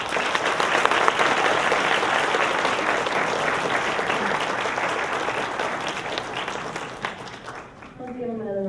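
Audience applause fills a graduation ceremony hall, a dense, steady wash of many hands clapping that holds loud for most of the stretch, then eases slightly as a voice begins speaking near the end.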